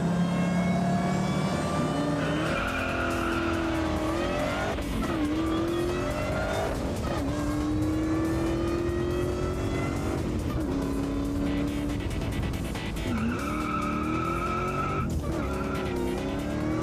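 Ford Mustang engine revving hard and accelerating, loud and continuous with rising and falling pitch sweeps and a squeal of tires, no voices.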